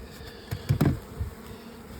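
Honey bees buzz low as a wooden beehive lid is lifted, with a few soft thumps and knocks from the lid mixed in over a quiet background.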